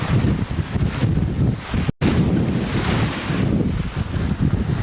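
Wind roaring across the microphone with ocean waves rushing past a sailboat at sea in light seas and a 10 to 12 knot breeze, a loud, continuous wash with a brief cut partway through.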